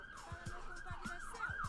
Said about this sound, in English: an ambulance just came to ruin my recording